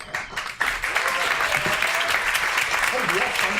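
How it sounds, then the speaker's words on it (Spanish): Meetup audience in Barcelona breaks into sustained applause, dense and loud clapping that swells after a brief quieter start and continues steadily, with some voices mixed in. "¡Cuánto aplauso!"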